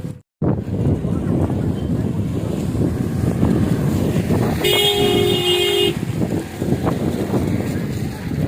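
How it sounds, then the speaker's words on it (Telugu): Strong sea wind with rain rumbles and buffets the microphone steadily at Dhanushkodi, Rameswaram, with a brief horn-like tone sounding partway through. "అది కాక ఇక్కడ ఫుల్ వర్షం పడుతుంది అండ్ విండ్ కూడా చాలా బ్లో అవుతుందన్నమాట"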